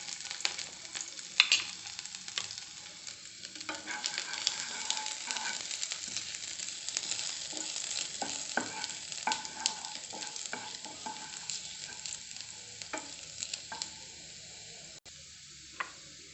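Long thin strips of garlic and ginger sizzle quietly in hot oil while being stirred in a pan for chilli chicken. The soft, continuous frying hiss is broken by occasional scrapes of the spoon.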